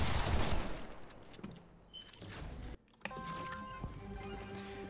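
Gunfire in a Fortnite creative box fight, a loud burst of rapid shots at the start that fades, a brief silence, then sharper single shots and game effects.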